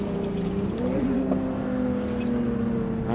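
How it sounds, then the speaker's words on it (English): A car's tyres spin and burn out in a racing video game during a sports-car cruise beside a BMW, giving a continuous loud engine drone with a steady rising whine. "I'm burning my tires in front of a BMW."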